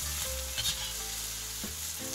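Funchoza noodles sizzle and fry in a kazan set over a campfire, a steady close-up crackle with brief stirring scrapes as the food is turned, and no talking.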